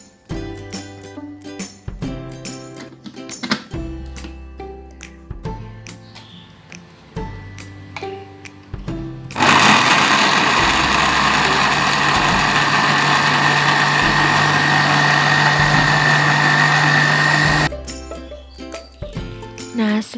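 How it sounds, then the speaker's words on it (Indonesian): An electric blender whirs loudly as it blends corn kernels with water, starting abruptly partway through, holding a steady motor roar for about eight seconds, then cutting off, with kitchen clatter and tapping before and after. "Kita blender jagungnya dahulu."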